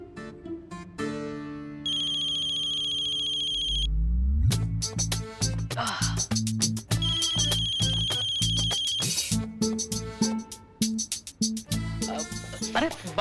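A telephone rings in steady electronic trills, pausing and then ringing again, amid dramatic background music with sharp stings and voices speaking around it.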